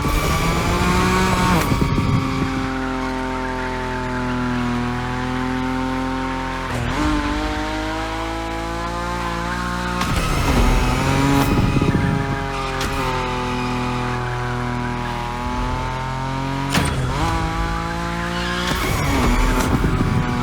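Nissan Nismo sports car in The Crew Motorfest racing game, a loud engine holding a steady high-revving drone while sliding at speed, with tire squeal and repeated sharp gear-shift or rev changes across the run.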